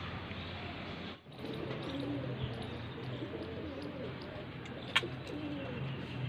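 Pigeons at a Faisalabad pigeon loft coo softly and steadily beneath continuous outdoor ambience, with a brief sharp tap near the end.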